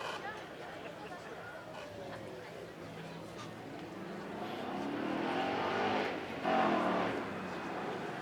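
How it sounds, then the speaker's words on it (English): A Ford Mustang RTR, once owned by a world drift champion, drives on a track at a supercar weekend. The engine tone rises and swells as the car accelerates at moderate distance, with crowd chatter faint underneath. "our RTR Mustang is going to come up first"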